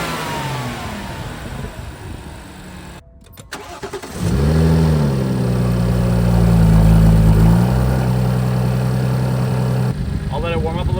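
A BMW F30 with the N55 engine and a performance intake starts up: a quiet lead-in, a brief gap, then the starter crank and a loud catch into a high idle that gradually settles lower.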